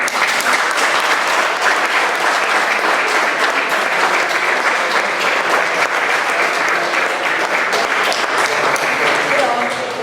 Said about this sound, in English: I'm sure you'll all put a big round of support, applause in for Joe Blowers.